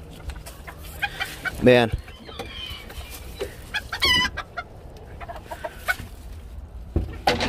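A broody hen that has laid her six eggs and sits on them clucks and squawks nearby in short irregular bursts, among other poultry noises, while a person speaks briefly.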